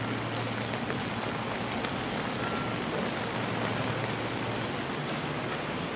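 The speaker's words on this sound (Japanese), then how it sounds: "結構な雨で、" Heavy rain falls steadily around a walker near Fuji Station in Shizuoka, Japan, a dense, continuous hiss of drops on surfaces with a low rumble beneath, loud and unbroken throughout.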